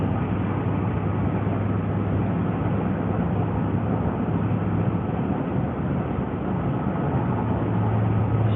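A car driving through Frisco, Texas, with a steady, continuous road and engine rumble that stays close and even throughout, no voices over it.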